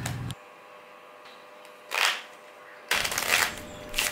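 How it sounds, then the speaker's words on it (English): Playing cards are riffle shuffled in the hand, close and crisp: a short burst opens, a softer flutter follows, then a longer, louder ripple of cards near the end, with no talk. "This is in the hand riffle shuffle."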